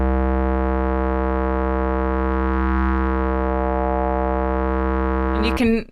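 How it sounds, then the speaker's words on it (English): A steady, buzzy synthesizer tone holds one pitch with a vowel-like, voice-ish coloring, then ends in a quick warbling pitch slide. "So I'm going to turn on vowel mode because it just sounds awesome."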